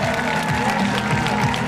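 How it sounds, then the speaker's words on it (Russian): Audience applause in a fight hall after a bout, a short burst of clapping and crowd noise with a faint voice underneath. "тебя вот любит зал, аплодисменты."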